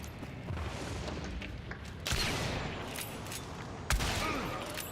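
A quick exchange of gunshots in a Ghost-themed shooter game, heard as two or three sharp reports at middle distance over a steady rumbling background, with no talk.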